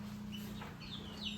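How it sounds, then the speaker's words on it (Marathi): A hen clucks faintly in a village setting, with a few soft, brief calls over a low steady background hum at some distance. "कोंबडी आली लगेच."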